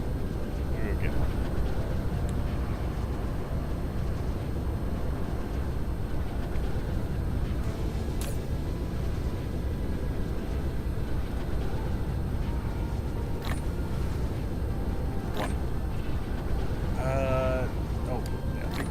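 Steady broadband roar of a mecha in flight mode in the game Dyson Sphere Program, a continuous whooshing engine drone held at even loudness throughout, with a few brief tonal blips near the end.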